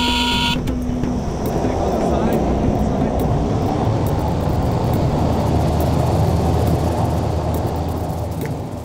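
Airplane cabin during a one-hour flight deep into the Amazon basin: a loud, continuous engine and airflow drone with a heavy low rumble, steady throughout.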